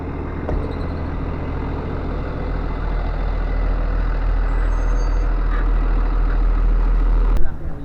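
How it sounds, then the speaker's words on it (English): A tour bus pulls in at a cheese festival dairy farm tour, its engine a loud steady rumble that holds throughout, capped near the end by a sharp hiss of air brakes. "And here comes the bus now."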